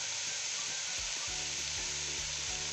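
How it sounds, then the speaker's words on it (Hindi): Vegetables fry on a high flame with chilli sauce and soy sauce, giving a constant bright sizzle with low rhythmic scrapes of stirring beneath it, close and steady. "अब मैं इस सारी वेजिटेबल को हाई फ्लेम पे फ्राई करूंगी।"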